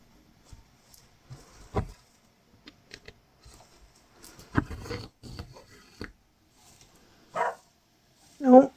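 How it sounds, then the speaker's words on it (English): A dog barks indoors at home, two sharp barks coming near the end after a stretch of quiet, scattered tapping and handling noises. "now the dog's barking"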